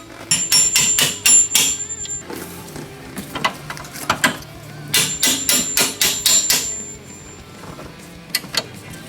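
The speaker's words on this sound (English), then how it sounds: "tap out the temporary bolt" A hammer taps out a temporary shock bolt on a DeLorean, sharp metallic strikes in quick clustered bursts with short pauses between, close and clear with little else around.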